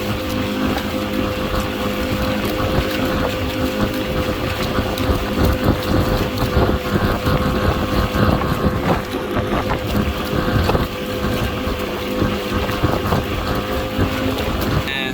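Custom bangka outrigger boat cruising along a shoreline at about 20 km/h, its engine droning loud and steady with constant tonal hum, overlaid by heavy wind buffeting and water rush.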